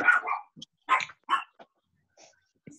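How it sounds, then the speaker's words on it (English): Two chihuahuas bark in short, sharp bursts, a few close yips clustered early then sparser barks trailing off, with no talk over them. "My dogs have escaped."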